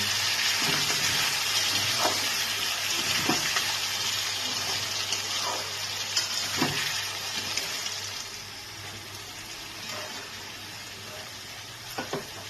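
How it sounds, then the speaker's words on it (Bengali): Potatoes fry in oil in a pan for a vegetarian curry, giving a continuous close sizzle with a low steady hum underneath and occasional soft stirring knocks, no voices. "এই আলুটাকে আমি এবার ভালো করে ভেজে নেব"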